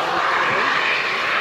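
A Saab Gripen fighter jet of the Czech Air Force roars steadily through its solo display at an air show in Leeuwarden, a loud, sustained engine rush that fills the whole moment.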